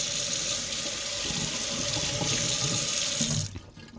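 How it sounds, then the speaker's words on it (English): A running tap at a sink rinses a houseplant, a loud steady rush of water close by that cuts off near the end. "I'm just going to give it a rinse off."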